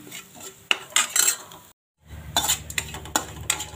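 A spoon clinks and scrapes against a pan while cauliflower rice masala is mixed, close metallic taps and stirring with a brief silent gap partway through and a faint low hum after it.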